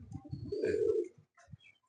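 A pigeon's deep, throaty coo rolls out once, with a few shorter low coos around it, close by in a quiet room among pigeons for sale.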